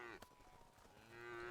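Cows in the game Craftopia give a couple of short, clear moos, with a sustained lowing tone rising toward the end, quiet and without talking.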